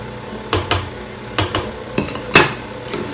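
Dishes and kitchen items being stacked in an Amish kitchen, a series of sharp clinks and clatters in uneven bursts, close and distinct with no talking.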